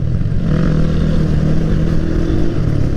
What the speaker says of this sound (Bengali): পাহাড়ের রোডে বাইক চালানোর মজাই খুব আলাদা